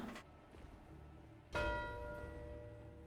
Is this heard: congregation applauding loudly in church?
no